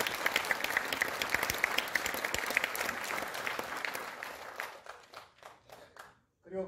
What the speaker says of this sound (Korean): 박수로 응원해 주십시오.